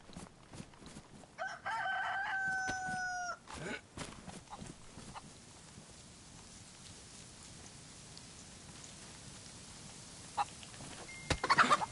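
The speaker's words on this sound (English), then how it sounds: "Okay, well, we have a chicken." A chicken in the survival video game DayZ, heard as a rooster crow near the start over a steady patter of rain, followed by faint scattered clucks and ambient noise.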